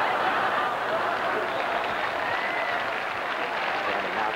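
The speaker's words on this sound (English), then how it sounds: "Crowd in the background. The noise is for the entertainment by the Chicken." Steady, dense stadium crowd roar at a 1981 college football game between SDSU and Wyoming, a continuous wash of many voices and scattered clapping, loud and unbroken throughout with no single voice standing out.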